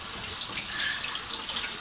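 Water running steadily from a household tap into a sink, a continuous close hiss with no breaks and no talking.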